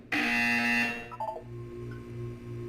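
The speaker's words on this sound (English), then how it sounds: "You will hear a buzzer." A loud, harsh electronic buzz in the video game Portal 2 sounds for about a second, followed by a few short blips and then a low pulsing hum.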